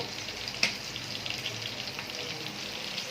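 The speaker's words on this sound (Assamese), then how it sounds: "আৰু এইফালে মাছে ফেৰ ফেৰ কৰি আছে" Fish frying in a pan, a steady close sizzle with faint crackle and one brief sharper pop early on, no talking.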